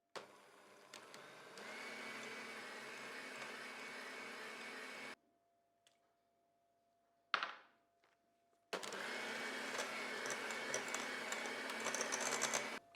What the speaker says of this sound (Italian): Metto anche il terzo e ultimo uovo e continuo a mescolare.